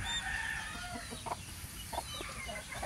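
A hen of a white-legged, dark brown line with a long, light body and thick plumage clucks softly a few times amid steady farmyard background noise, with no talk over it.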